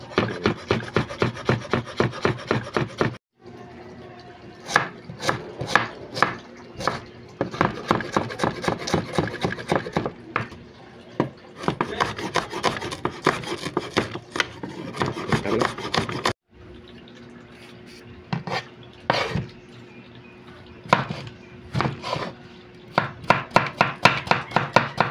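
A knife slices ginger on a cutting board in quick, steady chops that come in rhythmic runs broken by short pauses, close and crisp, with faint talk between runs.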